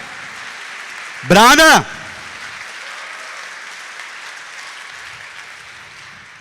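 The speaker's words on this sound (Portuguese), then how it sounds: "Pode dar uma salva de palmas para terminar." Church congregation applauding at the close of a Mass, a soft continuous patter under a short loud shouted word near the start, then steady clapping.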